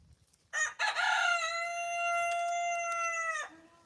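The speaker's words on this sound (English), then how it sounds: "Yeah, the rooster." A farm rooster crows once, loud and close, with a long sustained cock-a-doodle-doo call held for about three seconds against an otherwise quiet background.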